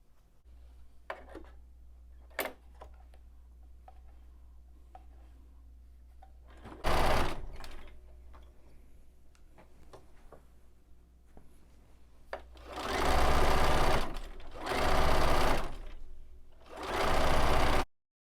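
A sewing machine stitches a quarter-inch seam allowance around the border of a vintage fall leaves table runner: one short burst, then three long, loud runs of stitching over a faint steady hum.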